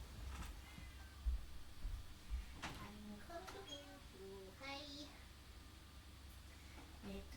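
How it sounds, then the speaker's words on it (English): A cat meows several times up close, short rising and falling cries in a loose series, with people talking quietly in the background. "I hear a meow meow."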